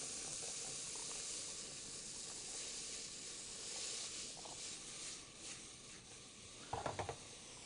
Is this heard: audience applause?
no